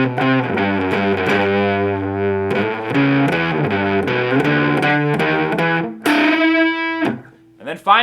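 A distorted electric guitar plays a riff of short single-note phrases moving in half steps through a distortion pedal, loud and close, ending in a sustained bent note with no voices.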